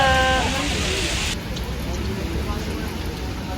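Heavy rain falling outdoors in a flooding street, a steady broadband hiss of downpour under a voice while he walks without an umbrella.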